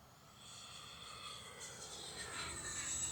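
A 64mm EDF Arrows Marlin RC sport jet makes a fast pass, its steady ducted-fan whine swelling slightly louder as it nears, heard alone with wind noise.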